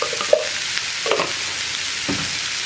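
Ivy gourd being stirred in a pan with turmeric and Kashmiri chilli powder, giving a few soft scraping strokes with light sizzling, spaced out and fairly quiet.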